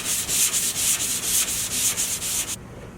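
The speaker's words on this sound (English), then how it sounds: "so now we're going to start sanding them out." A 220-grit sanding block rubs back and forth over a die in steady, rhythmic, close strokes, about a dozen passes before stopping.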